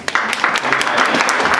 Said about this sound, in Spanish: a quien pido un aplauso